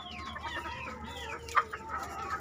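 Free-range chickens let out of the coop to scratch the ground cluck and chatter softly in the open air, with one sharper squawk partway through over a steady low background.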